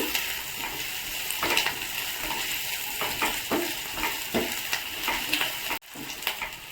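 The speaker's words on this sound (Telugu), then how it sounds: "ఇప్పుడు ఇది మిరపకాయలు వేగిపోయినాయి" Green chillies fry in a pan for a tomato roti chutney, giving a soft, steady sizzle with occasional crackles and faint utensil scrapes, heard close with no talking.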